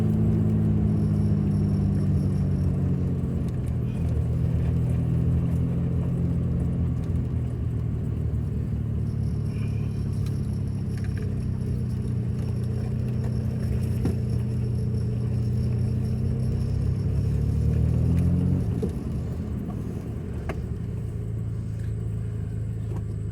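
A Datsun Z car drives with its engine running, a steady low rumble and whir heard from inside, with engine pitch rising and falling slightly over a long stretch, continuous and moderately loud with no talking.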